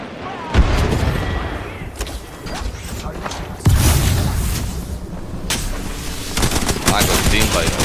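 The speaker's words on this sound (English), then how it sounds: "Look out, grenades." Gunfire and grenade blasts in an Apex Legends match, with dense rattling shots, a sharp burst near the middle, and continuous mechanical clatter and faint voices throughout.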